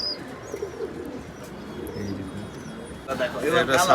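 Tournament racing pigeons coo softly at a loft, with a brief burst of fluttering near the end, while someone talks over them throughout.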